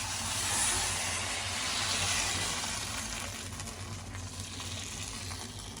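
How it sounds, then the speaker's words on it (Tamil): Sugar appam batter hits a hot pan and sizzles in a steady, broad hiss that stays close and fairly loud for several seconds, easing off slightly toward the end. "சட்டி சூடாக இருக்கு. இப்போ சர்க்கரை அப்பத்தை ஊற்றுவோம்."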